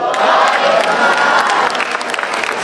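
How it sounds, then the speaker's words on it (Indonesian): Audience applause and cheering for a performer at an event, a dense, steady wash of clapping with crowd voices that holds loud and close for the whole stretch. "Langsung tepuk tangan saja untuk Akbar."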